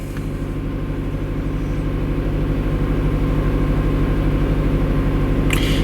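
A steady, close idle of a cold car engine warming up in winter, with a low rumbling hum that holds even and gradually grows slightly louder.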